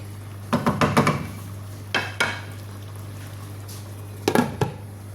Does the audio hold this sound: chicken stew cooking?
yes